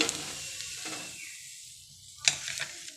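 Besan pudla batter cooking on a hot pan with oil, a soft steady sizzle with a brighter crackle near the end, no talking.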